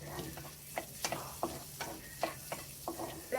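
Garlic sizzles in a pan for broccoli soup, a soft steady fry broken by repeated stirring scrapes and taps at a close, fairly quiet level.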